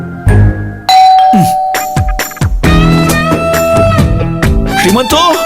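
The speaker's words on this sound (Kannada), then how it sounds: "ಇನ್ನೊಂದ್ಸಲ ಬೆಲ್ ಮಾಡಿ ನೋಡು." A doorbell at a house in a Kannada TV serial scene rings with clear, repeated chiming tones, loud and close, while people talk around it.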